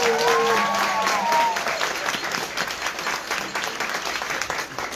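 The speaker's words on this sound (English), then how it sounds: "Give a round of applause for him." Sustained applause from a large audience, loud and steady throughout, with a brief whistle-like tone near the start fading under the clapping.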